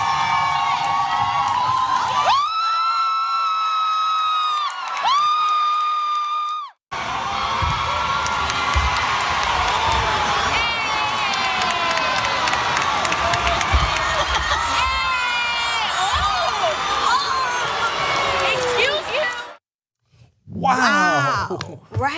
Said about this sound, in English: you can hear the people in the crowd reacting to it